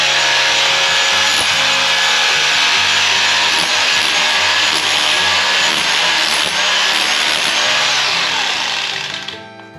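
A hammer drill in chisel mode pounds into concrete, a loud, close, continuous rattling hammering that runs steadily for nearly ten seconds before winding down at the end.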